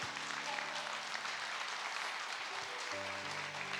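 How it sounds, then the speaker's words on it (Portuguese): A church congregation applauding, a dense, sustained wash of clapping from many hands, with a voice and musical tones faintly underneath near the end. "Aplauda Jesus aí."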